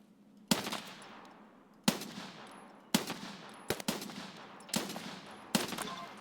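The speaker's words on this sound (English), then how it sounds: "I am being shot at." Gunfire in Escape from Tarkov: six loud, sharp shots, spaced roughly a second apart, one a quick double. Each crack rings out and fades in a short echoing tail before the next.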